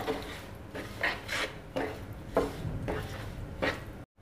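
Khoa (milk solids) stirred and roasted in a pan with a spoon. Rhythmic scraping strokes come about every half second, close and moderately quiet, with no voices.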